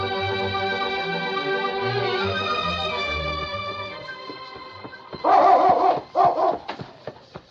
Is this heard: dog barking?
yes